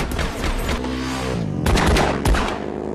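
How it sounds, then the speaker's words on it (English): Gunfire in the film The Fast and the Furious: rapid bursts of loud automatic shots crackle over a film soundtrack, with heavier impacts near the end of a short three-second stretch. "Surely someone's dying with all those bullets."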